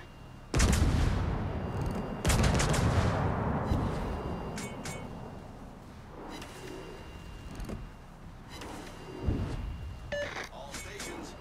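Ship guns firing in a naval combat video game against bombers, heavy booming bursts near the start and again around the middle and end, with rumbling battle noise throughout and a voice talking over it.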